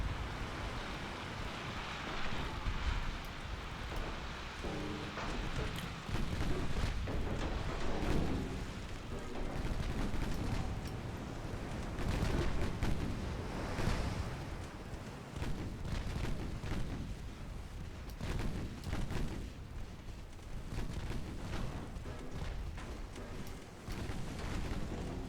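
Naval gunfire in a battleship campaign game, heavy booming cannon blasts and rumbling impacts rolling continuously over a dense, roaring sea-and-wind background, loud and sustained, with faint voice underneath.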